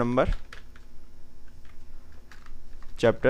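Soft keystrokes tap on a computer keyboard while a document is being written in Microsoft Word, with brief bursts of speech at the start and end around the close, quiet clicks.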